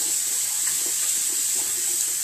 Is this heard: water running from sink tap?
yes